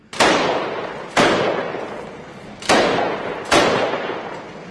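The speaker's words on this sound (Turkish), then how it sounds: "araçlar ve o noktaya doğru atış yapıyorlar" Four loud, heavy gunshots from SAS special forces firing toward a barricade, each blast sharp and booming with a long echoing decay, spaced about a second apart outdoors.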